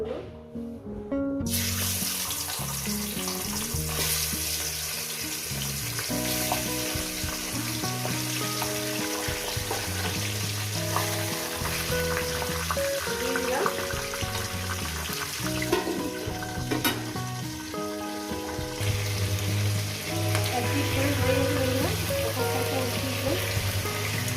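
Fish heads fry in hot oil with a loud, steady, hissing sizzle and crackle that runs unbroken and close throughout, with occasional louder spits and no talking.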